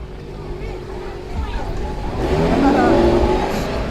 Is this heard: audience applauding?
no